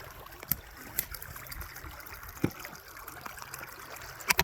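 Water draining out of a beaver swamp, a steady low trickle and gurgle running throughout, with scattered sharper splashes and drips over the flow.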